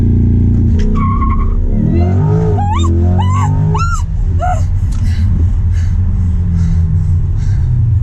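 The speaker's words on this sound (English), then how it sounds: "So when I launch the car like this," A car launching hard from a standstill, its engine roaring loudly and continuously while tires squeal in rising, warbling bursts for a few seconds before settling into a steady drone.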